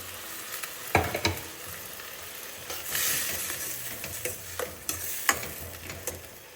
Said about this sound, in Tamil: ஒரு நிமிஷம் வதங்கட்டும்.